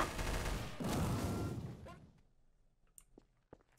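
A heavy explosion in the game Trouble In Terrorist Town, a loud booming burst that rumbles for about two seconds and then fades into quiet with a few faint clicks and footsteps.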